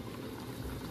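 Pork menudo bubbling in a covered pot on the stove, a steady close simmering hiss with soft liquid bubbling, continuous through the moment without speech.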